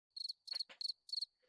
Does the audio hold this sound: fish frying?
no